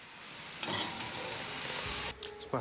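Close, steady sizzling of pancakes frying in hot oil, with a brief stir or scrape partway through and no talking.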